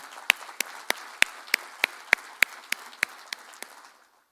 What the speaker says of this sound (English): have a big round of applause for a collective work well done